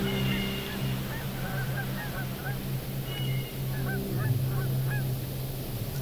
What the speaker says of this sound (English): The geese are migrating.